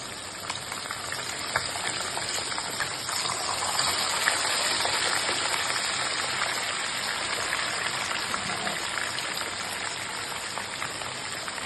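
Stuffed chicken fries in oil in a pan, a loud continuous sizzle and crackle that swells slightly midway and stays dense throughout.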